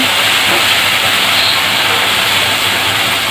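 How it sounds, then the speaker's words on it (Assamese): Cooking oil heating in a pan after garlic and ginger paste, turmeric and chili powder go in, giving a continuous loud hissing sizzle, steady throughout with no voices over it. "তেলটো ফুটিছে"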